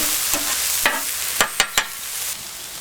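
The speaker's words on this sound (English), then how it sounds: "Just listen to that sizzle." Chicken and peppers sizzle loudly and steadily on a hot griddle, broken by several sharp scraping clicks as they are stirred and moved around.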